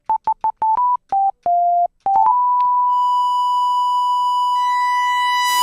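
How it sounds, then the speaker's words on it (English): Synthesized square pulse wave tones, a run of short electronic beeps at shifting pitches followed by one long sustained buzzy tone whose overtones grow richer toward the end, loud and alone. "this is a square pulse."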